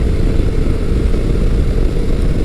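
A Yamaha FJ-09 motorcycle engine drones steadily and loudly while being ridden, a dense continuous rumble with no voices over it.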